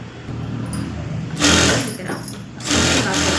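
A sewing machine runs fast stitching along a blouse's lining and neck in two close, loud bursts of steady whirring over a low room hum.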